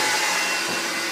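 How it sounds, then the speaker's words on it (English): Steam cleaner runs on flood-soaked carpet in a house, a steady, loud, broadband whooshing hiss held close throughout the short moment, with no voices. "So he's steam cleaning my carpet right there."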